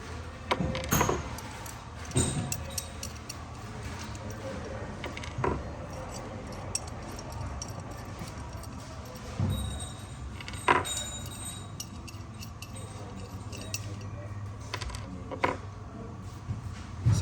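Hex head bolts are loosened and pulled from a Flo-Tite Tri-Pro series valve, giving scattered metallic clinks and rattles, several sharp taps spread across a steady low background hum.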